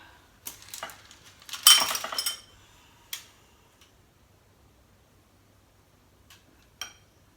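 A spoon taps and scrapes against a container while cocoa is sifted into skim milk powder, a quick cluster of light clinks and rattles followed by a few isolated ticks and near silence.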